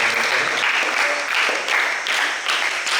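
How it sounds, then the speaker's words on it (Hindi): Steady applause from an audience at a weekly Jain religious study session for a class, dense and continuous clapping at moderate volume for about three seconds. "जोरदार ताली बजाएं"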